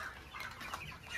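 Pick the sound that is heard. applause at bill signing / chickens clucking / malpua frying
chickens clucking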